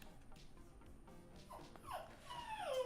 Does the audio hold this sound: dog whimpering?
yes